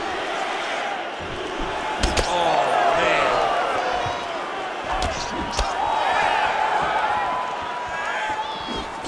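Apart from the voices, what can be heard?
crowd cheering in UFC 5 video game fight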